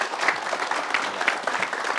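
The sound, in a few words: studio audience applause for Vega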